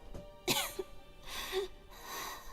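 A Genshin Impact game character coughs in a few rough, raspy bursts spread over about two seconds, close and fairly clear, with breathy throat sounds between them.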